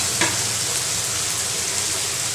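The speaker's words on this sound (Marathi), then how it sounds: "आपण पूर्ण कांदा परतून झाल्यानंतर आलं लसूण ठेचून घेतलंय ते टाकणार आहोत." Crushed ginger and garlic sizzle with onions in a pan for Maharashtrian upma, a steady, dense frying hiss close up throughout, with no talking.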